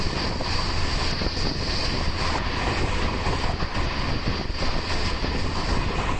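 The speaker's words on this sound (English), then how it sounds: "this train is going very fast to have its doors open" A fast-moving train in Morocco, running with its doors open, rattles and roars continuously, with steady loud rumble and wind noise, no voices.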